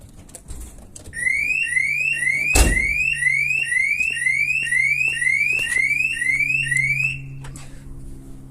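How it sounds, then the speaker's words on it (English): A 2016 Nissan Navara's factory car alarm wails in rapid repeating rising sweeps, loud and close, after a single sharp thud, then cuts off. "There you go, system's triggered, original alarm's gone off."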